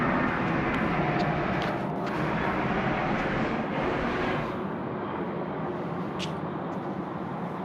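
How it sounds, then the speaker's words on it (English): A Jetstar Airbus A320 jet departs at night from Sydney Airport, its engines a steady broadband roar held at a constant distance for the whole stretch, easing only slightly toward the end. "We've got Jetstar A320 getting away now"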